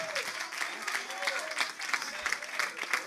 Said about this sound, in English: Come on, somebody clap your hands